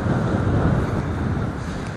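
Strong winter storm wind buffets the microphone on a Black Sea beach in Anapa, a loud continuous low roar with gusty rumble and no voices.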